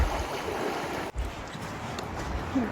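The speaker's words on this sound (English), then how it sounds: "We are still crossing the river." Flowing water rushes steadily around legs wading across a sandy river, a continuous close wash of splashing and gurgling with one brief dip in the middle.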